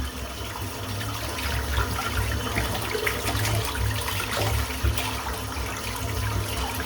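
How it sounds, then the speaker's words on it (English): Running water rinses soap out of a shaving brush, a steady close splashing flow with small gurgles throughout. "Getting the soap out of the brush."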